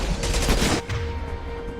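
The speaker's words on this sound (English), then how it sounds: "Switching to my SMG here." Rapid bursts of SMG fire in Mass Effect 2, a loud crackling stream of shots that stops abruptly partway through, leaving a quieter tail with faint tonal game sounds.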